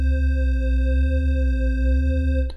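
SurgeXT software synthesizer organ patch with a slow pitch attack, a steady sustained organ tone with rich stacked harmonics holding loud and even for over two seconds before cutting off abruptly.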